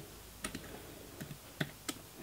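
Keys pressed on the keyboard of a Motorola Atrix Lapdock, a handful of sparse, quiet clicks in loose pairs, close up with no talk.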